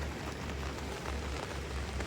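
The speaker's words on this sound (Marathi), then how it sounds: "पाऊस आत्ता 2 दिवस झाले पाऊस चालू झाला आहे" Steady monsoon rain hisses on surfaces during a fishing trip, a dense continuous patter at moderate level with no break.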